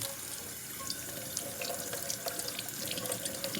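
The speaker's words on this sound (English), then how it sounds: "Make sure you're using cold water as well." Cold tap water running steadily into a sink while a sponge is rinsed, a soft continuous splashing stream with small drips, faint and even throughout, with no voices.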